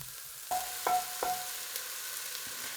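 Onions frying in a pan with a low, steady sizzle, broken by three sharp metallic scrapes of a utensil against the pan in quick succession, then a few softer stirring sounds, with no one talking.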